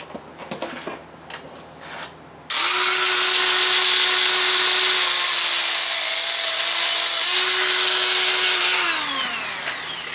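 Abrasive cut-off wheel slicing through a small metal part for a toy model steam boat engine: after quiet shop sounds, a loud, sustained high-pitched grinding screech starts abruptly and holds steady for several seconds before easing off slightly.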